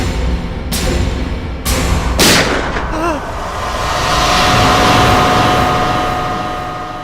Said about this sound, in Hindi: चला के देख लो, टीवी पे फायर करके देखो।